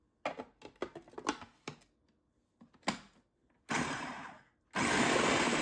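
An electric grinder pulses briefly on chutney spices and tamarind pulp, giving a few rough whirring bursts of a second each after some light knocks and clatter.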